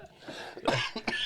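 A cough in a grimy organ-grinding workplace: a cluster of rough, throaty bursts in quick succession, fairly close and loud, with a throat-clearing quality and no speech over it.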